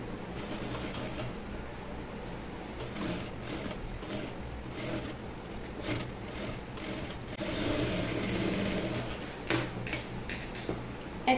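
A sewing machine stitching baby frock fabric, a cross piece joined to the back neck, running in bursts of whirring needle rhythm with pauses, small clicks and handling noises, close by.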